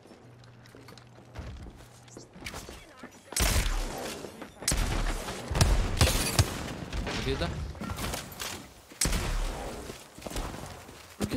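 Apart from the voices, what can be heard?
gunfire in the video game Apex Legends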